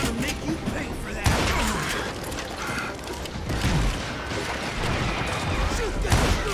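Gunfire in the Western shooter Call of Juarez: Gunslinger, with several sharp shots and crashes over a dense, busy game mix, a louder burst near the start and another near the end.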